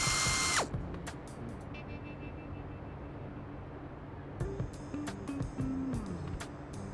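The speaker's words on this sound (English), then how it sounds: "Use a drill to create a hole near the bottom." A power drill bores a hole near the bottom of a plastic rain barrel, giving short whirring bursts that rise and fall against quiet background noise.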